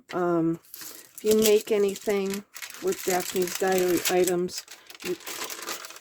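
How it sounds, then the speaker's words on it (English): Paper and ephemera crinkle and rustle during journal crafting, a soft crackling texture running beneath a person talking close to the microphone. "sorry for the paper noise."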